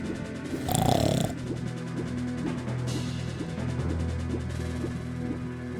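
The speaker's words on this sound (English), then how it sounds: "It's Malin snoring." Malon snoring in The Legend of Zelda: Ocarina of Time, slow rhythmic game snores repeating steadily over a soft background hum, with a brief louder burst near the start.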